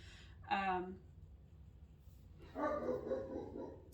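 A dog barks twice nearby, a short sharp bark followed after a pause by a longer, rougher bark in a quiet room.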